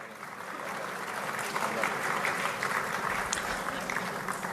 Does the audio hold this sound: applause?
yes